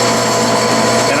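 A Clausing lathe rolling a diamond knurl onto oiled 3/8-inch aluminum rod, a loud, dense continuous machine grind and hum held close without a break for the whole short stretch.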